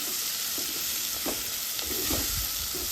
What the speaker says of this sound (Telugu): కింద మీద కలిపేసేసుకోవాలి మంచిగా